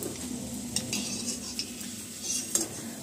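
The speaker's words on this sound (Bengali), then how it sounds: "কয়েকটা ব্যাচে এভাবে আমি ভেজে নেব।" Plain flour snacks frying in oil in batches for a vegetarian dish, a soft close sizzle broken by a few light clinks of a metal utensil against the pan, fairly quiet throughout.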